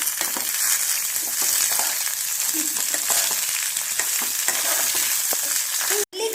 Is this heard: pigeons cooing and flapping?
no